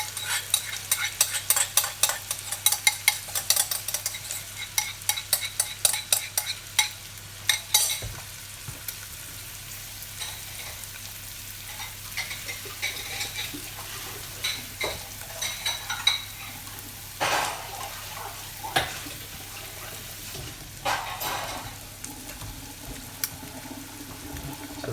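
Onion base for a moussaka sauce sizzles in a pan while being stirred, with a run of quick spoon scrapes against the bottom at first, then steadier frying hiss broken by occasional clatters.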